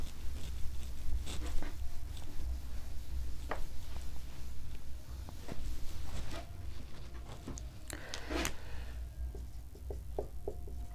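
Pen scratching across paper while working out a ratio problem, scattered soft strokes and taps at close range over a low steady hum, no talk.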